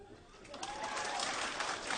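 A crowd at a New York stand-up comedy show breaks into applause. It is faint and distant, building into a steady hissing wash of many hands that swells slightly toward the end.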